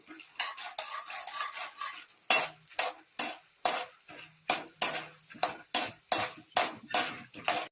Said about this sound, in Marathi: आता आपण शेंगदाणे टाकून घेऊया आणि ते तळून घेऊ छान खरपूस तळायचे